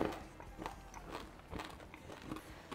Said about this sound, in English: I can hear your crunch